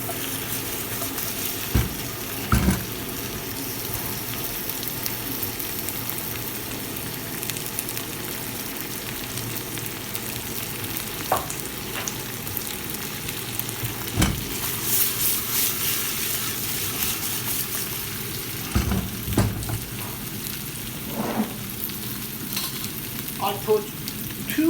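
Chicken thighs sizzle steadily in a pot for a one-pot dish, with a constant frying hiss broken by a few sharp clatters and scrapes as the pieces are tossed around.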